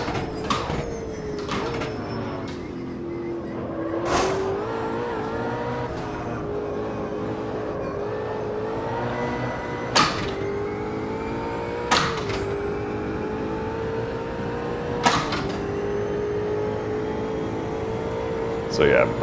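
Race car engine in the video game Automobilista 2, a sustained whine that rises and falls with speed, broken by sharp gear-shift clicks at intervals.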